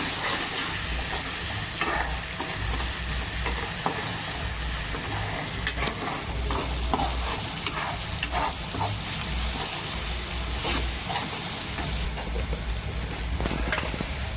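Onion, tomato and Malvani red masala sizzle steadily in a hot pan, with a continuous frying hiss and occasional scraping stirs, no voices over it.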